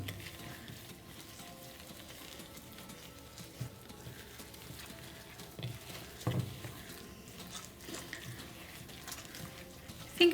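Dirt and water being stirred together by hand into a wet mix for wildflower seed bombs, a soft continuous squelching and patter with occasional small splashes, close and fairly quiet.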